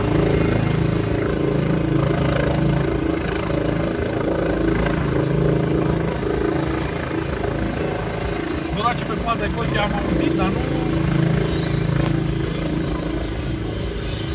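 A rescue helicopter's steady rotor and engine drone runs loud and continuous throughout, with a few faint higher clatters near the end.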